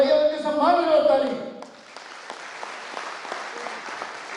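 At a business leaders' meeting, an audience gives applause in honour of a woman being thanked. A voice talks at the start, then thin, scattered claps follow and carry on at a fairly faint, uneven level.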